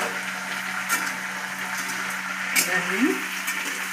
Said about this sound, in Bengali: চালটা দিয়ে আমি মিনিট পাঁচেকের মতো খুব ভালো করে ভেজে নেবো আমি